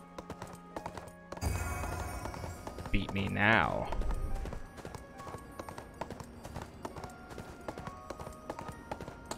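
Horse hooves clip-clop in the video game ArcheAge, a steady rapid trotting rhythm with a whinny in the middle, while someone talks briefly over it.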